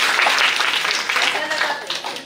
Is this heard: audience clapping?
yes